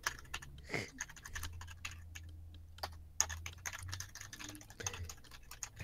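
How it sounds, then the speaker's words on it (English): Someone types furiously on a computer keyboard, a fast, continuous patter of quiet clicking keystrokes with no voices over it. "This is typing most furiously."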